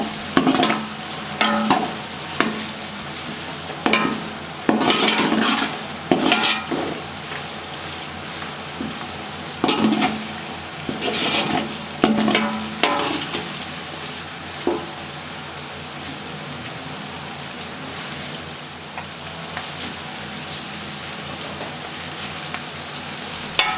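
Capsicum and carrots stir-frying with chicken in a pan for a restaurant-style Chinese dish, loud rhythmic scraping and tossing bursts over a constant sizzle, easing to a quieter hiss toward the end.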